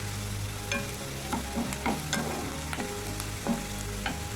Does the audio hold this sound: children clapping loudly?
no